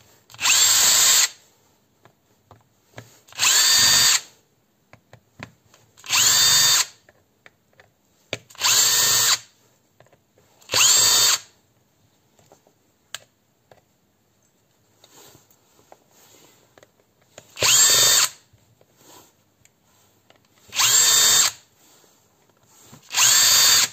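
A power drill drives self-tapping screws into a thin metal airsoft gearbox: eight sharp whirring bursts of about a second each, loud and close, separated by quiet pauses, with no talk.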